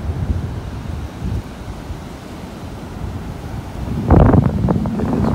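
Strong wind buffets the microphone on a beach in North Naples, Florida, a steady loud rumble under surf, with a sharper gust surging in toward the end.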